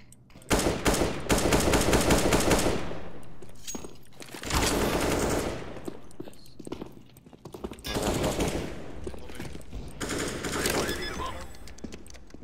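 Gunfire in a CS:GO match, repeated bursts of rapid automatic fire in several separate volleys, some near and loud and others softer, with quieter gaps between them.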